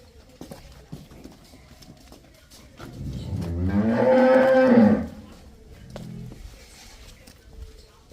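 A Nili-Ravi buffalo lets out one long, loud, low moo that swells and fades over a couple of seconds, with faint farmyard noises before and after.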